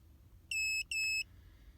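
A Foxwell NT204 OBD code reader gives two short, high electronic beeps in quick succession while communicating with a car's onboard computer, clear and steady, over a faint hum.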